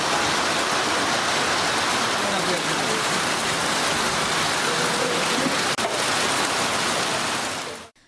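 Heavy monsoon rain pours down steadily in the Nilgiris hills, a dense, continuous hiss of water on surfaces without pause, loud and close, no voices.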